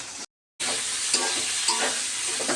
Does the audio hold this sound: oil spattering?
yes